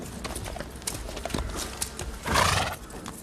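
Horses shuffle and clop on a hard stable floor with scattered snorts, and a louder whinny rises briefly near the end.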